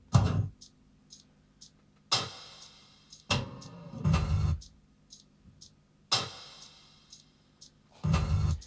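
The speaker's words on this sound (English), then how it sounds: "There was a noise that was going on that this machine was making when the laser cutter was moving around." A laser cutter whirs and clatters as it moves in a repeating rhythm, with sharp hissing bursts and softer thumps recurring at regular intervals, no voices.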